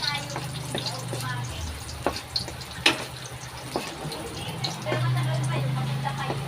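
Garlic and onion sizzle steadily in a pan for a Filipino upo dish with shrimp and tofu, a soft continuous frying hiss with occasional small pops and a low hum beneath, with a voice heard briefly.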